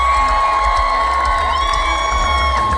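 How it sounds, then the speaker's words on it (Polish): A concert crowd cheers and whoops loudly at a live rock show in Kraków, a steady roar of voices with a sustained tone and music-like hum running underneath throughout. "Wielkie brawa"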